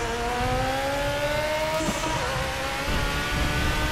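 A Ford Zakspeed Capri Group 5 race car accelerates hard at Spa in RaceRoom, its engine note climbing steadily through the gears with a brief shift dip, loud and continuous.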